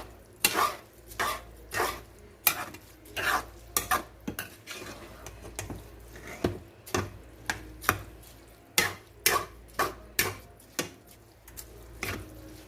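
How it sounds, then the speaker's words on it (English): A spoon stirs rice with pigeon peas in a pot, with repeated scraping and clanking strikes against the metal at an uneven rhythm, close and fairly loud over a quiet background. "You mix this very, very well, so you can see what I'm doing."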